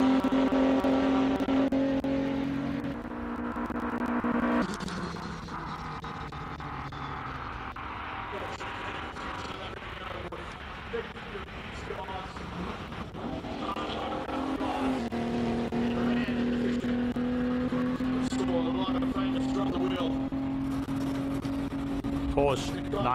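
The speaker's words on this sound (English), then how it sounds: "Ford Capri. Let's have a listen." A classic Ford Capri race car engine roars loudly and steadily through a circuit race meeting, its sustained drone shifting as the car accelerates and backs off, with a commentator's voice running over it.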